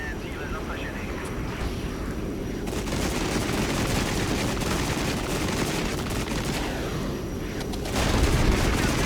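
A DPICM cluster artillery strike in the Regiments war video game sounds as a dense, continuous crackle of many small explosions and rumbling fire, loud and sustained, with a swell of intensity near the end.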